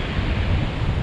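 Ocean surf at a Sint Maarten beach, a steady broadband wash of waves mixed with wind buffeting the microphone, continuous and fairly loud with no voices.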